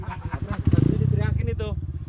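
A new two-stroke motorcycle engine sputters and then revs in a quick rattling burst, its loud buzzy pulses rising and falling close by while people talk over it.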